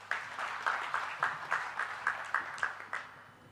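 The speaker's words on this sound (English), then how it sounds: "Let's give a round of applause once again to Suhas for a forward-thinking address" Faint, evenly spaced claps from an audience at the IMS 2025 curtain raiser, roughly three per second, thinning and fading out toward the end with no talk.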